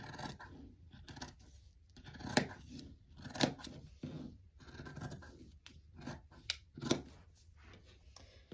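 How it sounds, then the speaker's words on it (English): Scissors cut out a fabric sewing pattern along its line, giving faint, close, intermittent snips and scraping rustles in irregular bursts, with no talking. "I'm going to go ahead and cut it out right outside the line because this pattern includes the sewing"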